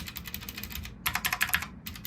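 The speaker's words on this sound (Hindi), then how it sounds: "ये जो कीबोर्ड है ब्लू स्विच कीबोर्ड है" A blue-switch mechanical gaming keyboard clicks sharply under fast typing, giving a close, dense run of bright clacky keystrokes with a brief pause in the middle.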